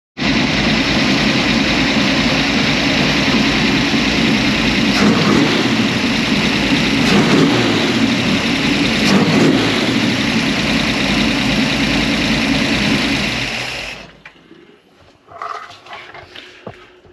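A carbureted engine, mid tuning, runs loud and close with a rough, uneven roar as the throttle is blipped, the revs wavering rather than climbing cleanly, then it cuts off abruptly, leaving a few faint clunks.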